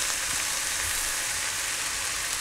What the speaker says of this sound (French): Et on va faire tomber les poireaux comme ça.